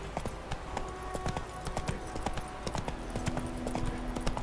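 Roach, the horse in The Witcher 3, trots with steady hoof clip-clops repeating close by under a faint layer of game ambience, no talking.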